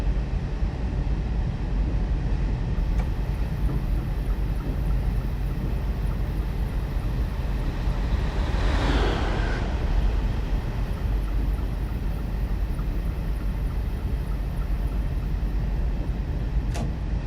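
A diesel train coasts along a Bristol Temple Meads to Plymouth route in Train Simulator 2017, a steady loud rumble of engine and wheels with a brief whooshing swell midway, no talk.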